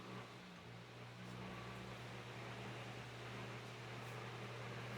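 Antique Emerson electric fan, preserved and rewired, running at medium speed with a steady low motor hum and soft airy whoosh, faint and even throughout with no talking.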